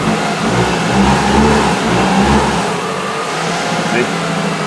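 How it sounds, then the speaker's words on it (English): Subaru 2.5 engine that lacks power, revving in two short swells then dropping back to a lower drone, loud and close, with background voices. "Go ahead and rev it up again."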